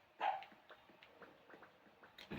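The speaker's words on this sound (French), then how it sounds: "c'est mon chien aboie un peu." A pet dog gives a few short, faint barks and whimpers indoors, a sharp yelp at the start followed by softer scattered yips.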